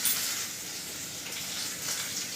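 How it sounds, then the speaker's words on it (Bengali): Lentil dumplings (bori) fry in oil with snake gourd in a pan, making a steady, close hiss and sizzle with faint crackles throughout and no voices. "এখানে চিচিঙ্গে বড়ি ভাজা হচ্ছে"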